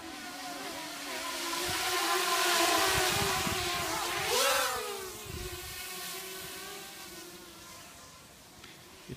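A QAV250 FPV quadcopter on EMax 1806 2280kv motors buzzes overhead in wind, its high whine rising and falling as it climbs, swells closer and then drifts off fainter.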